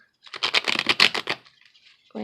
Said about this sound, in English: one more shuffle for the masculine energy card